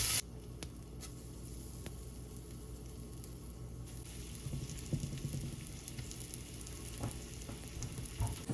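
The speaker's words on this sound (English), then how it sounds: "While I'm searing the meat," Venison eye of round searing in a hot pan, with a steady, soft sizzle and scattered pops and crackles that rise a little toward the end, heard close with no talking.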